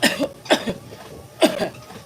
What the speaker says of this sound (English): I seriously got a cough